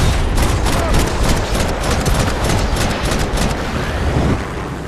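Rapid gunfire from the video game Max Payne 3, a dense fusillade of loud overlapping shots with some booming impacts, sustained for several seconds before easing slightly near the end.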